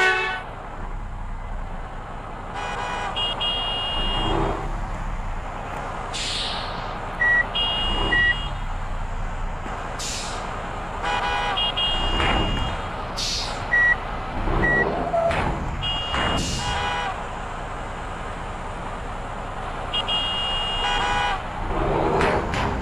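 Horn toots, reversing beeps and engine drone from a dump truck in the Bus Simulator Indonesia game, steady and fairly loud across the whole stretch, with repeated electronic beep tones and short honks over the running motor.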